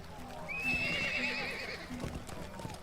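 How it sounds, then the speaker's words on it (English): A horse in the Lord of the Rings Online video game whinnies in a long, rising and falling neigh, loud and close over game ambience and hoof clip-clops, with a voice speaking in the background. "Let's ride the horse around a little bit."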